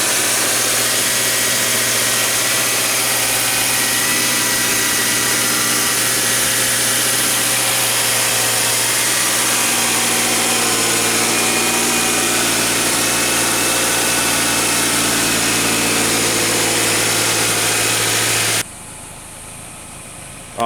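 A 2014 Subaru Crosstrek XV engine idles steadily after an oil change, a close, even mechanical hum with a constant low drone that runs unbroken for about eighteen seconds before cutting off abruptly.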